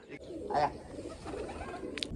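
A flock of homing pigeons settles back at a rooftop loft, giving a short cooing call and faint wingbeats against quiet background, with a brief sharper chirp near the end.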